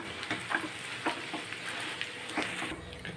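Mashed boiled potatoes being stirred together with onion in a pan, a soft scraping and mixing sound with faint sizzling and scattered clicks of the utensil, steady and close, no talking.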